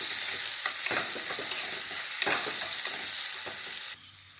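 Onion sautés in a pan for red chili coconut chutney, a dense close sizzle with repeated scraping stirs that cuts down sharply near the end, no speech heard.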